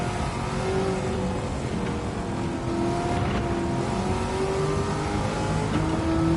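A De Tomaso Pantera engine revs steadily and loudly in Gran Turismo 7, a continuous droning roar with slight pitch rises, alone without talk.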